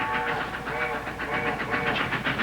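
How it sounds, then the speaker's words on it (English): A passing train, the Silver Streak, sounds its whistle in a 1960 drama, the tones pulsing repeatedly in a signal pattern over the rumble and clatter of the rail cars, moderately loud and somewhat distant. "It's Grandpa's train. It's taking him home. It's his signal, remember? 2 long, 3 short."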